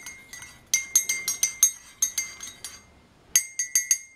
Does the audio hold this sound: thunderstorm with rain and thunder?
no